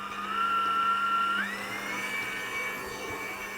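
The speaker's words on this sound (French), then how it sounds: "Et ça, on va le remettre au batteur" A stand mixer creams butter with caramelized shallots, its motor giving a steady, close whirring drone with a whining tone that shifts pitch partway through, with no voices over it.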